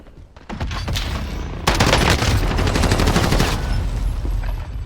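Rapid gunfire crackles in a video game, a dense fusillade of shots that jumps louder partway through and keeps going steadily to the end.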